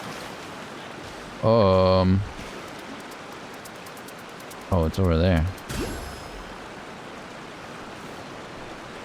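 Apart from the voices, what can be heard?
waterfall in the video game Genshin Impact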